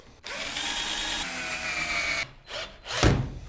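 A power drill drives a few screws into wood, running in a steady whir for about two seconds, then pausing and firing off two shorter bursts that end in a louder final spin near the end.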